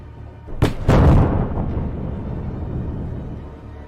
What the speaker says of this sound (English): HIMARS promptly delivered 2 strikes.